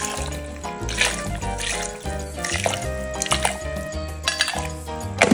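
Vegetable broth sloshes and splashes into a blender with clinking and dripping, close and fairly loud, continuing in irregular bursts.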